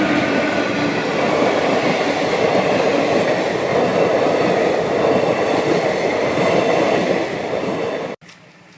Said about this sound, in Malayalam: മറു ട്രാക്കിൽ ചൂളം വിളിച്ച് വീണ്ടും തീവണ്ടി എത്തുക